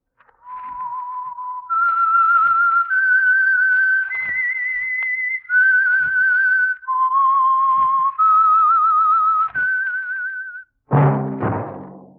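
A clear, loud whistled tune, the signature theme of the 1948 radio drama The Whistler, sustained notes stepping up and down, ending with a short thump and a brief burst of noise.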